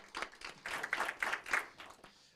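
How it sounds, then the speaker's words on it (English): A few people clap faintly at a city council meeting, a short scattered run of distinct hand claps lasting about two seconds. "If we can give them another round of applause, please, for all the work that they do on a daily basis"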